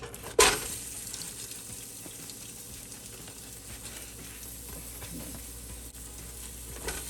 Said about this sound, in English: to the olive oil, I'm going to add our sausage